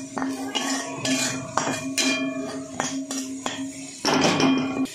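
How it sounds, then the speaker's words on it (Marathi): Clinking and scraping of a spatula against a pan as green chillies are stir-fried with crushed peanuts, a steady run of sharp metallic taps and stirring over a low hum. "याच्यामध्ये ना थोडंसं शेंगदाण्याचं कूट घालून घ्यायचं आणि चांगलं परतून घ्यायचं"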